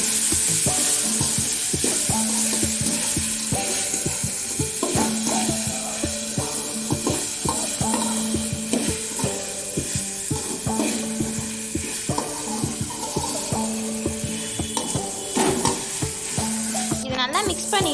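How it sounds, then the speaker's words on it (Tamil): Chopped carrots and green beans sautéing in a pan for a rava khichdi, with a steady loud sizzle throughout and repeated rhythmic scraping of a spatula stirring the vegetables, close up with no talking. "இதில் இப்போது 2 மீடியம் சைஸ் கேரட்டும் 6லேருந்து 7 பீன்ஸையும் சாப் பண்ணியிருக்கேன், அது இதில் ஆட் பண்ணி நல்லா வதக்கி விட்டுக்கோங்க"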